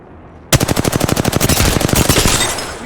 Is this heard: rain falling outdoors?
no